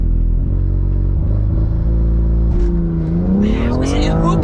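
A BMW M2 on Advan A052 tyres launching hard, the engine roaring loud and close with rising revs through a gear change and a tyre chirp, a voice heard briefly under it.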